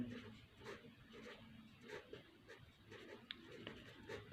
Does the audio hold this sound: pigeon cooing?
no